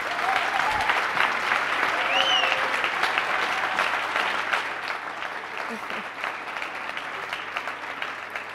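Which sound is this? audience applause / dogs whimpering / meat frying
audience applause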